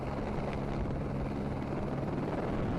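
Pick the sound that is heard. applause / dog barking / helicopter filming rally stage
helicopter filming rally stage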